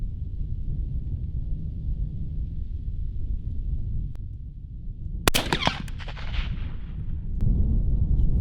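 A single rifle shot fired at a distant target cracks sharply once through a low, steady background rumble, followed by brief echoing decay.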